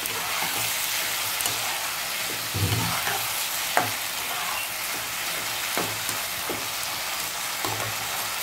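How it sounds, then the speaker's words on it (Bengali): Potatoes sautéing with spices in a pan for a Bengali fish curry, a continuous sizzling hiss with occasional spatula clicks and scrapes, close and steady throughout. "মশলাগুলোর সাথে আমি আলুগুলোকে ভালো করে কষিয়ে নিচ্ছি"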